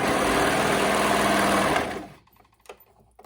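A sewing machine stitches a shoulder sleeve onto a garment, a fast continuous mechanical whir close and loud for nearly two seconds, then winding down and stopping, leaving near quiet with a small click.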